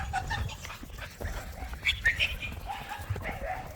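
Bully breed dogs running and playing in snow, with yips, whimpers and short excited barks over soft movement noise, a person speaking faintly underneath.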